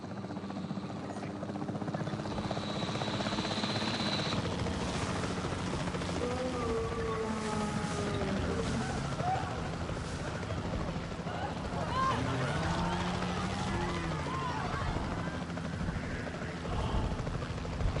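Capture team helicopter in Jurassic World Evolution 3, rotors thudding steadily throughout while dinosaur roars and game effects rise over it, with talk mixed in.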